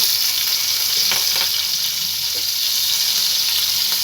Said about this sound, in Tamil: எண்ணெய் காய வச்சுருக்கேன். ஜீரகம் தாளிச்சுக்கலாம்.